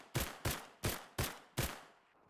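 Five sharp gunshots from a makeshift assault rifle in Fortnite, fired in a quick even burst with each crack decaying briefly before the next, no voices.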